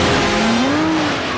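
An Aston Martin Vanquish and a Jaguar skid on ice inside an ice palace, a loud continuous roar of engine and tyre noise with a wavering squeal running through it, close and unbroken.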